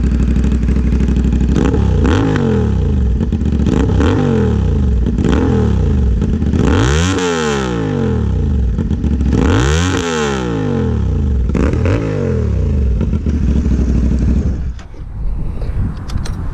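A loud CF Moto 450SS motorcycle engine close by, revving up and down several times in rising and falling surges before settling and dropping off at the end.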